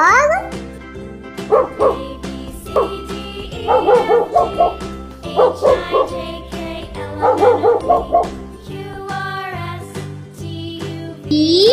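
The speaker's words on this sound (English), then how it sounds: "D for dog." A dog barks and yips in short repeated bursts, some with a whining tone, loud and close over a light jingling musical backing in a children's phonics rhyme.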